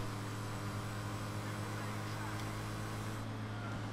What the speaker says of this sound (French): niveau moteur, on a tout le temps le même bruit